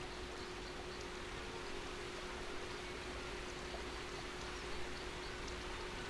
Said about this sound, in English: Slowly, the river fills with water.